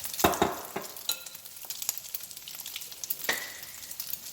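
Tuna patties fry in a pan with a steady crackling sizzle, sharp spatters and occasional louder pops, close and alone without talk.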